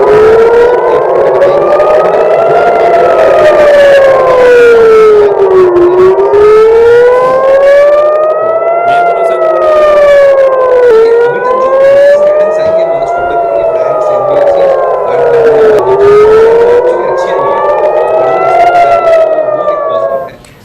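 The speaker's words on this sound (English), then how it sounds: "Sirens have sounded in Israel, with interceptions still taking place" Civil defense sirens in Israel wail continuously during missile interceptions, rising and falling in long slow sweeps, loud and overlapping with a second siren slightly out of phase.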